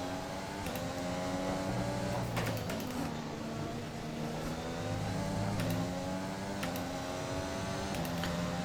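Formula 1 car engine in the racing game F1 2021, a steady loud mechanical whine running the whole time, pitch stepping up and down through gear changes, with a few brief clicks on top.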